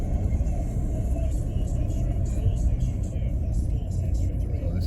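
A car drives through the main street of Callander, Scotland, a steady low road rumble filling the whole stretch, with faint voices in the cabin over it.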